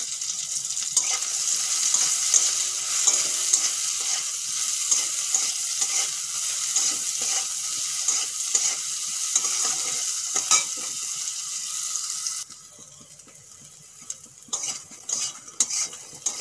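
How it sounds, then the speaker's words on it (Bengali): Soybean chunks frying and being stirred in a pan, a steady hiss of sizzling oil with repeated scraping clinks of a spatula against metal, quieter and more sporadic toward the end. "সয়াবিন বেশ লাল লাল করে ভেজে নিয়েছি"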